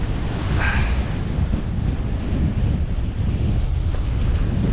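Strong coastal wind buffets the microphone while someone lure fishes for cod, a loud, constant low roar with surf mixed in and no talking.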